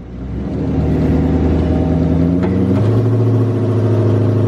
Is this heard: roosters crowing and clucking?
no